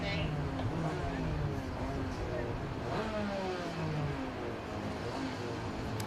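Six 125cc KZ and Superkart racing karts lap the track at a Forest Edge Kart Club round, their engines a steady, loud roar with rising and falling revving pitches that overlap as the karts pass at mid distance.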